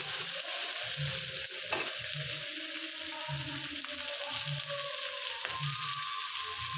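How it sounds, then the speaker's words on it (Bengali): Onion sizzles steadily in hot oil in a pan, with a pinch of salt added, as a spoon stirs and scrapes at intervals; the frying is close and continuous with no talk. "এবার পেঁয়াজটা ভালো করে ভাজতে হবে।"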